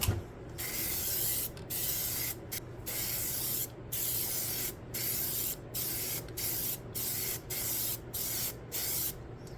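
Spray paint goes on in a light first coat over headlight projector parts for a 2006–2008 Subaru Forester, heard as a series of close, steady hissing bursts separated by short pauses.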